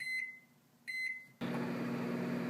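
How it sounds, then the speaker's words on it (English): A microwave oven heating butter and marshmallows for Rice Krispies treats gives two short beeps, then its steady hum starts up and runs on, close and alone. "Now let's put it in the microwave."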